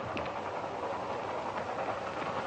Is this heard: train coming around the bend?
yes